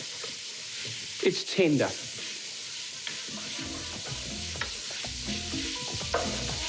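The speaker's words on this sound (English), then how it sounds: "we're just going to saute this until" Four cloves of garlic sautéing in a hot pan with fresh chilli and chipotle, a steady sizzle broken by a few loud stirring scrapes early on, with a brief spoken remark near the end.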